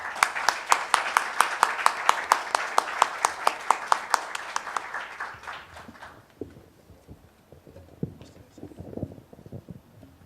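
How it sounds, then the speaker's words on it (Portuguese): An audience at a literary academy evening applauds for an ambassador with sharp, rhythmic claps that fade after about six seconds. Quiet shuffling and murmuring follow. "para quem eu peço aplausos antecipados"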